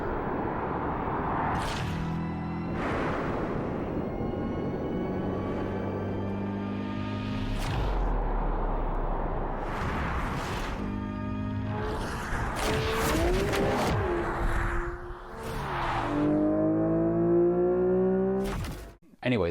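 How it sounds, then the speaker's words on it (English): A Genesis Magma performance car drives with repeated rising engine revs through gear changes, each climb cut off and restarting, ending in a long acceleration pull, all under continuous talking. "you can hear the real sounds that the actual car makes in the background"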